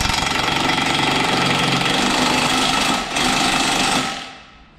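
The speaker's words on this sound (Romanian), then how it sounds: "am strâns și pivotul la fel. Exact cât am considerat eu că trebuie strâns cu pistolul" A pneumatic impact wrench rattles continuously as it tightens a ball joint nut on a Ford Transit, loud and close, with one brief dip before it winds down at the end.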